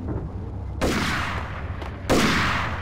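Gunfire in the Max Payne video game, with two loud bursts of rapid shots starting abruptly about a second apart, each followed by a ringing decay, heard on its own without talk.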